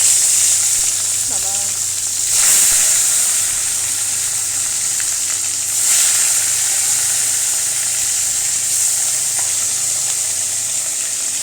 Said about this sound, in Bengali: এবার আমি এর মধ্যে মাছগুলো দিয়ে দেবো, দিয়েই ঢাকনা দিয়ে দেবো।